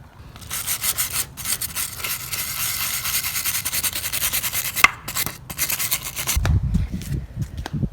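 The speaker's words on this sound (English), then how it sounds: "the wire brush seemed to loosen up some dirt" A wire brush scrubs dirt off an engine block in steady, close back-and-forth strokes, with a brief clack midway and a louder low rumble of handling near the end.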